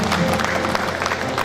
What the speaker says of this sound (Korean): 큰 박수로 여러분 환영해 주시기 바랍니다.